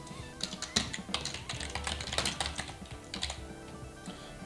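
Fingers tap quickly on a computer keyboard in close, uneven bursts of clicks while renaming an ingredient in BeerSmith brewing software, with a low background hum.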